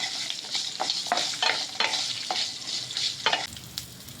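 Five or six garlic cloves sizzle and fry in a pan for a moringa leaf chutney, with steady crackling broken by several sharp scraping stir strokes, close and moderately loud, without talk.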